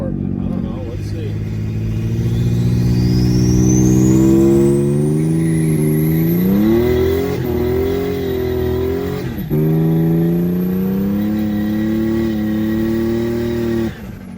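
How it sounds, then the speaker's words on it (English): A 1993 Ford Thunderbird SC Turbo does a burnout on a stretch of road, its loud engine revving steadily and climbing in pitch with a squealing tire whine above, easing briefly and rising again for about fourteen seconds. "So how does it do in the Burnout department?"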